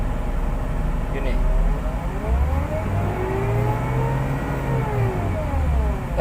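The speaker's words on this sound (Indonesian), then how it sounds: "ketika kita menginjak pedal gas yang terlalu dalam" Engine of a manual-transmission car revving as the gas pedal is pressed, a loud steady mid-pitched drone that rises and falls in pitch, heard close from inside the car.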